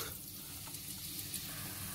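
Onion stirred and frying in a generous amount of hot oil in a large pan, a continuous dense close sizzle with faint stirring, no voices.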